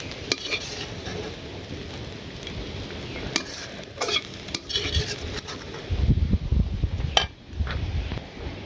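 Onions frying in oil in a pan for shapla charchari, a steady crackling sizzle with occasional scraping of a utensil against the pan, close up and without talk.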